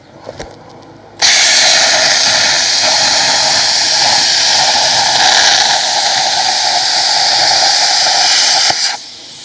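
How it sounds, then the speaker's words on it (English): An Everlast Power Plasma 62S plasma cutter cuts metal with a loud, steady roaring hiss that starts abruptly after a brief lead-in, holds for about seven seconds close by, then cuts off. "I'm actually quite lucky with this machine, which is a Power Plasma 62S from Everlast"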